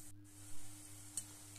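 Chitti madatha kaja, sweet-shop-style folded pastries, fry in oil turned up to high flame, producing a brief, soft continuous sizzle with a low background hum and one small tap.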